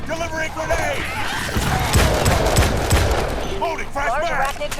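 Gunfire from the video game Starship Troopers: Extermination clatters in quick bursts beneath in-game voice callouts and effects, loud and close throughout.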